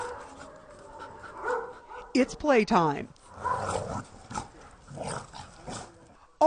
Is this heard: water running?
no